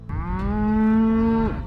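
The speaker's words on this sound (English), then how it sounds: "they have a couple hundred head of cattle" A single long, loud cow moo rings out on a ranch, steady and tonal for over a second before trailing off, with no talk over it.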